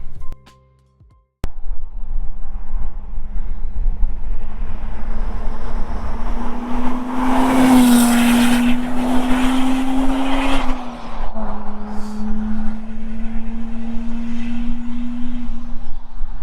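A loud, rough modified car engine revs hard and holds a high, droning pitch, then drops back to a lower growl after a brief break at the start.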